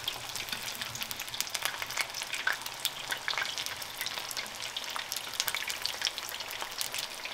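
Beer-battered burrito grunt fish crackles and sizzles in a deep fryer, a dense, constant bubbling hiss heard close up with no pauses and no talking.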